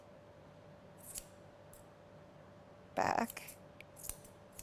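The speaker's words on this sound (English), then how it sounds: "I'm going to notch over the ear now with the scissors" Scissors notch hair over a poodle's ear during grooming, giving a few sharp close snips, with one louder burst of cutting amid a quiet background and a brief spoken word.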